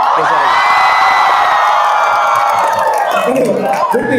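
A large crowd of students at an Indonesian political rally shouts and cheers loudly and continuously, a dense close roar of many voices with whoops rising above it.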